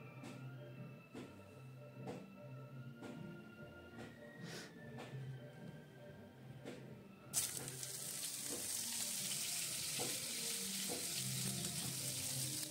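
Vegetables for chow mein, including cauliflower and broccoli, fry in white oil in a wok, first with soft rhythmic taps and stirring, then a sudden loud, steady hiss of sizzling that carries on to the end, close up.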